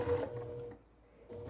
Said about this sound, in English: go ahead and sew your curve